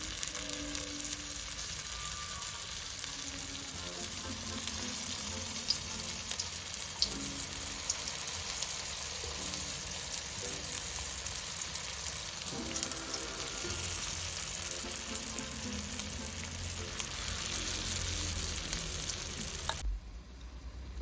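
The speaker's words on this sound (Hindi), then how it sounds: "फिर मैं जो हूँ मिनी रोल को फ्राई करूँगी।" Mini aloo rolls deep-frying in hot oil in a kadhai give a steady, dense crackling sizzle that holds for about twenty seconds and then cuts off abruptly, with no voices.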